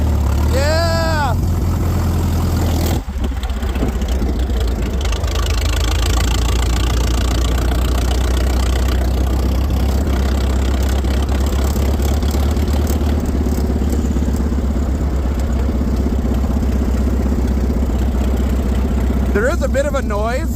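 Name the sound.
1912 Continental race car engine running with a noise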